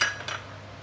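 Green screw peppers stir-fried in a pan, in a dish with dried anchovies: a metal spatula clinks and scrapes against the pan twice in quick succession, close and fairly clear.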